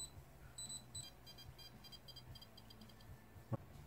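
DreamSourceLab DS4T252 oscilloscope beeping with its tone changed, a series of short faint electronic bleeps at shifting pitches, quiet and close, ending with a small click.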